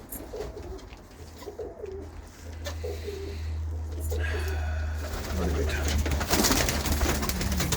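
Several pigeons coo in a loft, soft repeated calls over a steady low hum and background rustle, with the noise growing busier toward the end.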